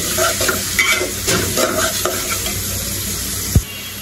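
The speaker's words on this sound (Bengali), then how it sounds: "এখন কিন্তু আমি জিরা বাটা আর রসুন বাটা দিব, দিয়ে কিন্তু আরেকটু ভাজা নিব মশলাটা এই তেলে" Cumin and garlic spice paste frying in hot oil, a steady sizzle with repeated stirring scrapes through it and one sharp knock of utensil against the pan near the end.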